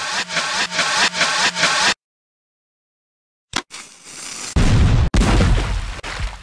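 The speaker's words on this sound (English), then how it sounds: "You fired that cannon like a seasoned deckhand." Cannon fire in the Muppet Treasure Island PC game: a repeating musical phrase cuts to silence, then a sharp burst followed by two heavy booming blasts with rumbling tails.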